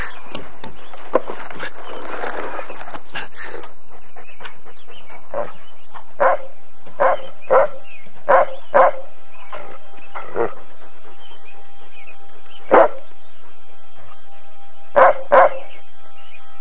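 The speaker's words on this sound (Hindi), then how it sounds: "तू क्यों भौंक रहा है?" A dog barks repeatedly at a distance, single sharp barks spaced irregularly after a noisy opening stretch, with no talking.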